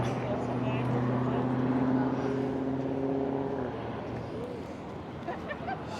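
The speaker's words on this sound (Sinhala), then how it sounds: "මේ හරියට තියෙනවා ටූරිස්ට් හෙලිකොප්ටර්ස්." A steady, droning engine hum of tourist helicopters overhead near the Staten Island Ferry route to Manhattan, with a voice talking over it; the drone fades after a few seconds.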